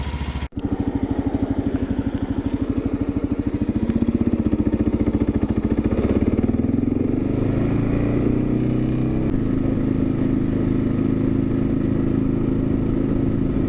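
A 2022 Kawasaki KLR 650 motorcycle engine chugs at a steady idle, then its pitch climbs as it revs up and rides on, loud and close.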